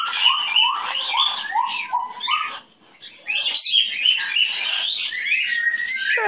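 A pet baby bird chirps and tweets in quick bright bursts, close and fairly loud, with a short gap near the middle before the chirping resumes.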